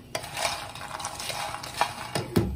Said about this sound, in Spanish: pero la sigo moviendo para que no se queme porque el sartén sigue caliente